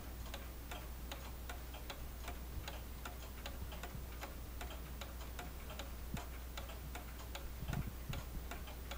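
A repaired mantle clock ticks in a steady, even rhythm, each crisp tick close and clear over a quiet low hum, with no talking.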